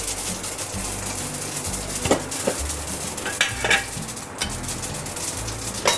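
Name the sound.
fenugreek and mustard seeds sizzling in oil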